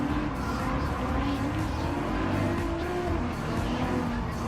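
An SLR McLaren supercar races in Gran Turismo Sport, its engine giving a loud, steady drone that stays close and continuous, with faint tyre noise and no talk.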